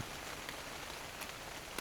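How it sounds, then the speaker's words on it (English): Rain falling on a tarp, a steady dense patter of drops with a few louder individual hits, close and alone. "I'll leave you with a little rain on a tarp."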